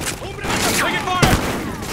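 Sharp bursts of gunfire crack out in a Call of Duty Ghosts firefight, with loud close shots and a heavy impact amid battle noise and shouted voices.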